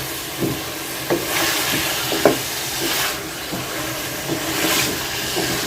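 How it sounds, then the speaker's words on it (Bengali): Chicken being stirred and fried in a pan, a steady sizzling hiss broken by soft scraping stirs at irregular intervals, with no voices. "নাড়াচাড়া দিয়ে সুন্দর করে ঢেকে রাখবো আস্তে আস্তে কষানো হোক"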